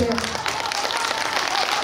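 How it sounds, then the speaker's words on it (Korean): A crowd at a Korean song festival applauds steadily, a dense wash of clapping filling the space throughout. "박수 한번 더 보내주세요."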